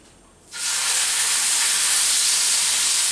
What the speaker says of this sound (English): That sear is what you're looking for, okay?